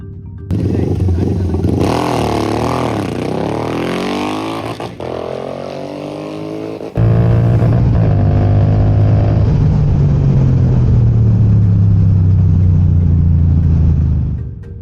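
A race car in a GT Cup national series launches hard off the start on its second attempt, its engine roaring loud and close with rising revs, a gear change, then a sustained heavy drone that stays steady before easing off.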